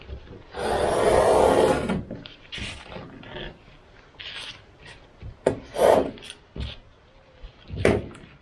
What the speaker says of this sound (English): now we need to cut some sheets of fiberglass